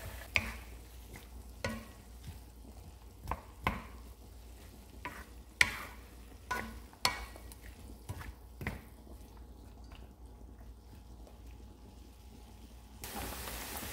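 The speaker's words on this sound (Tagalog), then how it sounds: "Mix lang natin. Ipagsabay na natin." Carbonara with bacon being stirred in a pan, a soft frying sizzle running throughout with intermittent scraping clicks of the utensil against the pan, close and moderately quiet, no talking.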